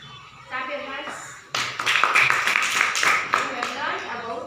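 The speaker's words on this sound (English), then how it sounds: "Clap your hands." Pupils in a school classroom, during a lesson on acid-base neutralization, clap their hands together: a brief spoken line, then a burst of close, loud clapping lasting about three seconds.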